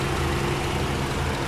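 A Mitsubishi Lancer engine idles close by with a steady, even rumble and a low throb that holds unchanged throughout, with no voices.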